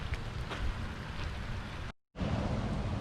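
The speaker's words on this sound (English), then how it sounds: "peep the waterfall coming down the driveway" Rainwater rushes down a driveway in a steady, broad hiss and gurgle, cut by a brief moment of silence near the end before the flow resumes.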